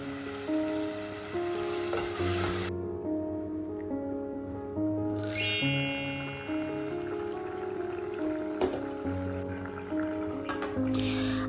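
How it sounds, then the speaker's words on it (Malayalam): Tomato curry with ginger, garlic and green chilli sizzling and frying in a pan, a steady close crackle with stirring, under background music and a brief sharp clink midway. "അപ്പോൾ നമുക്കിനി കറി ആക്കിയെടുത്താലോ."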